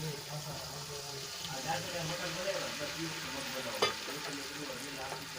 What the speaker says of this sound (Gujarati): અને સરસ રીતે આપણે વઘારમાં મિક્સ કરીને આપણે છાશને ઉકળવા દઈશું અને આ રીતે આપણે હલાવતા જ રહીશું